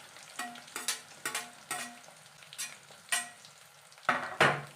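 Chopped onions and green chillies frying in oil in a pan, stirred with a spatula in a quick series of scraping strokes over a steady, soft sizzle.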